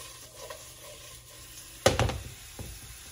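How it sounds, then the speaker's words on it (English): Onions hit a hot pan with a sudden loud sizzle that flares up and then settles into a crackling fry, preceded by quiet kitchen shuffling. "So we'll go in with the onions. And you wanna hear that sizzle."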